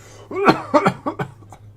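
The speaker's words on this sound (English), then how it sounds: "He coughs again." A fit of harsh, voiced coughs, about four in a row that weaken toward the end, close and clear.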